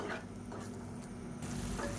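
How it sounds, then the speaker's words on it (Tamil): A steady, soft bubbling and sizzling of milk gravy starting to boil in a pan, continuous and fairly quiet, with no voices. "இப்போ நல்லா கொதிக்க ஆரம்பிக்கட்டும்."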